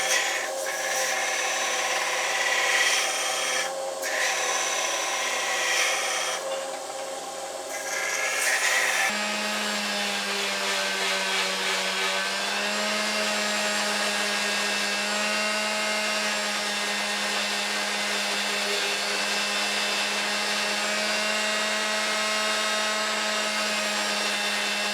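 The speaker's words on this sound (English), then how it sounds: "I'm going to get the little belt sander out and refine this" A small belt sander refines a no-forge sword blade, running in a continuous steady whine that grows harsher and more sustained partway through as the metal is worked, close up and alone without talk.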